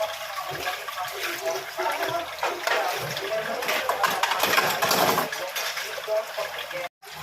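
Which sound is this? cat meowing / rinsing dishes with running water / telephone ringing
rinsing dishes with running water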